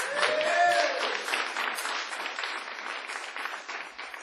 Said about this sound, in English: So I want you to applaud for that.